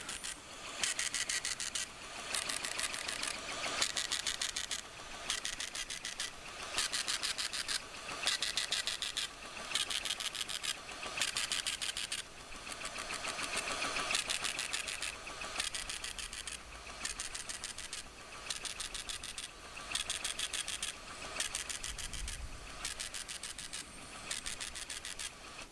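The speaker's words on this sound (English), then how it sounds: "I'll just keep quiet while this prints out, just so you can savour the full experience" An Epson HX-20's built-in printer prints out a program listing, a loud steady mechanical buzzing in repeated bursts, each line rattling off with short pauses between, on its own with no talking.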